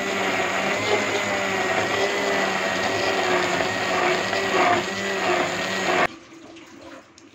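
A blender whirs loudly and steadily for about six seconds, then cuts off abruptly, leaving near silence.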